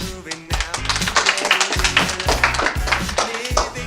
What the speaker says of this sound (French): Nous pouvons applaudir notre copain Louis